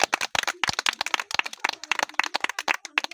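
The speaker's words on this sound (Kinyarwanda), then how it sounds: "Mwiha amashyi menshi." An audience applauding: a modest group clapping unevenly and close, quick overlapping hand claps in a steady patter with no cheering or talk.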